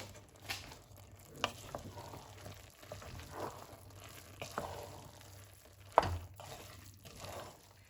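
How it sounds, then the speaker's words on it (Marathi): Saffron vegetable pulao rice being stirred in a pan, with soft intermittent scraping strokes and faint sizzling under a low steady hum, quiet and close. "आनी आतां बरो मिक्स करूया हो"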